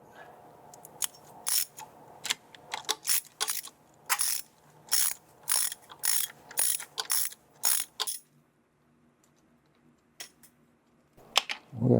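A ratchet wrench loosens the rear peg bolt on a Harley-Davidson Sportster, a string of quick clicking bursts in an uneven rhythm, close and crisp, followed by a quiet pause and a final few clicks.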